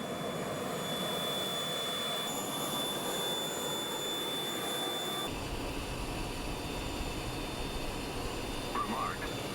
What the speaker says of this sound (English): Chad just fired up the APU.